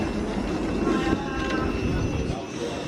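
A train rumbles along the rails near Dumbarton Central, Scotland, with a steady low roar and faint rhythmic rattling, heard from inside, loud and continuous.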